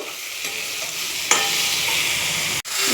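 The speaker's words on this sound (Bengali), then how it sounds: "এবার সব কিছু একসাথে ভালো করে কষিয়ে নেব।" Spices with turmeric and Kashmiri red chilli powder being stirred and fried in a pan, a steady close sizzle with scraping stirs and a sharp clank of the spoon near the end.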